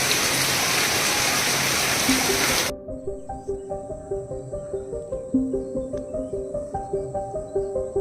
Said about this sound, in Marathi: मोठा पाऊस आला एकदम तिथं मोठा